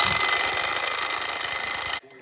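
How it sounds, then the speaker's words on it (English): An IKEA DEKAD alarm clock rings loudly and steadily with a bright, continuous electronic tone, then cuts off abruptly near the end, leaving near silence. "The alarm just scared me a bit."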